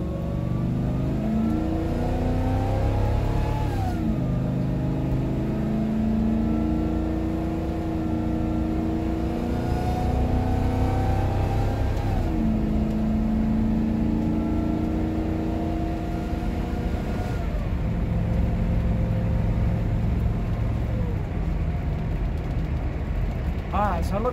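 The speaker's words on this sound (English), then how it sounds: "Let's go wide open throttle." Vehicle with an 8.1 Vortec engine accelerating at wide open throttle, a steady rising roar through several upshifts heard from inside the cab, with someone talking over it.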